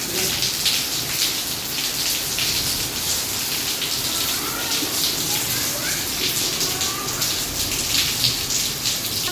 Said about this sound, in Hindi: तब तक शुरू हो गई है जोरदार बारिश